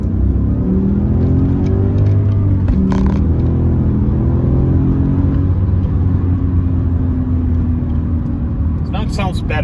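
Manual Porsche Panamera S V8 with an upgraded exhaust revving in second gear on a winter drive, a deep steady engine rumble with rising and falling rev sweeps, close and loud throughout.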